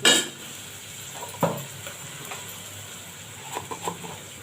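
Garlic paste goes into a cooking pan and is stirred. A sharp clatter opens, then a spoon scrapes and taps against the pan over a faint sizzle, with a few soft clinks near the end.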